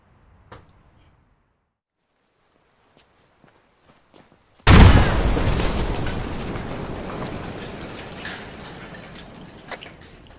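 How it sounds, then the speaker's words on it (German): A vehicle blows up in the military video game ArmA 3: after near silence with faint ticks, a sudden loud blast erupts and its rumbling debris tail slowly fades over several seconds. "dann fliegt das Fahrzeug wieder in die Luft"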